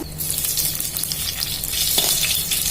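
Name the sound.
mustard seeds and dry chillies frying in oil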